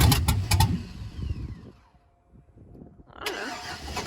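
A Chevrolet Suburban's engine cranks over repeatedly on its first start attempt without catching, a rhythmic churning broken by short pauses and a near-quiet gap before the cranking picks up again.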